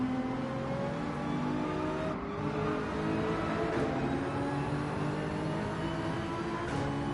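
A Jaguar race car engine in Gran Turismo 7 holds a steady, sustained drone at racing speed, with mild shifts in pitch as the car runs on without a break.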